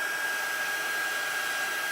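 A heat gun used for embossing blows with a constant, even hiss and whine, loud and close, with no voices and no change in pitch throughout.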